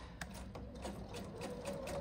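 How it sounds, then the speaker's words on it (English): Sewing machine fitted with a quarter-inch foot stitching down fabric straps on a lined apron, a steady close-up mechanical whirr with rapid rhythmic needle ticking throughout. "I've got my 1/4 inch foot on and I am just gonna stitch this down"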